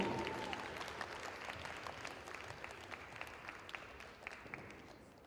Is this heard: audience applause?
yes